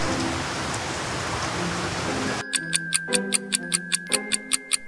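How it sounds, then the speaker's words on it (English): Cartoon rain pouring down: a dense hiss of rain for a couple of seconds, then abruptly giving way to a regular series of sharp, evenly spaced ticking drops, loud and close. "Suddenly rain started to pour down on Marshall."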